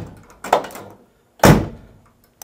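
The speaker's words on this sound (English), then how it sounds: "door shut nice" A classic car door, on a 1956 Chevy or 1967 Camaro, shuts twice with solid, close thunks about a second apart, each with a short ringing tail.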